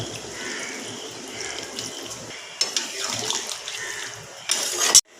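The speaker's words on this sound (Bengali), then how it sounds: "এবার আমি পরিমাণ মতন জল দিয়ে দিচ্ছি" Water pours steadily into a pot of chicken masala curry, a continuous close splashing rush that swells and turns louder toward the end, followed by a brief clatter.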